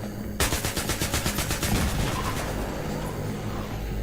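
Gunfire in Battlefield 3: after a short quiet lead-in, rapid automatic shots ring out close and loud in an even stream, with a rumbling battlefield backdrop.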